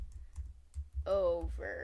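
A computer keyboard types text in Scratch with a few soft, close keystroke clicks, followed by a person speaking over the end.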